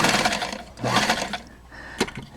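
A Necchi 575 FA sewing machine running in short bursts, a close whirring mechanical stitching sound that stops and restarts, ending with a sharp clack.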